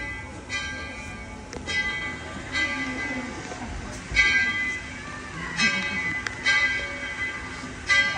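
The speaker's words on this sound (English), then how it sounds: "All aboard the Tweetsie Railroad." Tweetsie Railroad train with its bell clanging in repeated, evenly spaced strikes over a steady rumble of the train, with voices faintly present.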